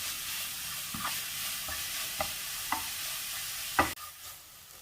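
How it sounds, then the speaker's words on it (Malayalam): Grated carrot sautéed in ghee over a medium flame, a soft steady sizzle broken by several sharp scrapes and knocks of a spoon stirring the pan, the loudest clatter near the end. "ഇത് ഈ നെയ്യിൽ തന്നെ നമുക്കൊന്ന് ഇളക്കി ഒന്ന് വേവിച്ചെടുക്കണം"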